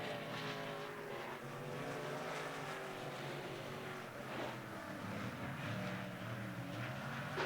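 Modified race cars racing at a speedway, a continuous distant roar of several engines blending into a dense, steady drone.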